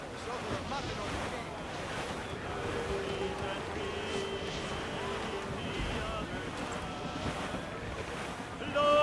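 A sailing ship runs at full sail across the open ocean in Assassin's Creed 4 Black Flag, with steady wind and rushing waves forming a continuous, even wash and faint tonal sounds over it.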